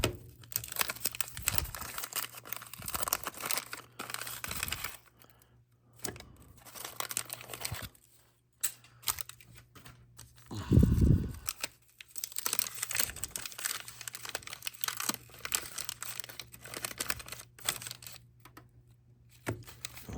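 Wax packs of 1989 Topps baseball cards being ripped open and handled close up, giving irregular crinkling and tearing bursts with quiet gaps between them and one louder rustle partway through, with no voices.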